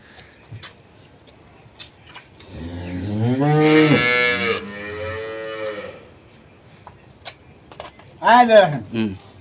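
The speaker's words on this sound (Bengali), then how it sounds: "সেই গরু" A dairy cow of an improved breed lets out a long, loud, close moo, followed later by a shorter second call, with quiet ticking and faint voices in between.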